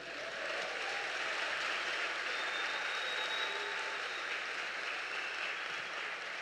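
Congregation applauding during a church service, a continuous, even wash of many hands clapping, moderately distant and steady with no pauses.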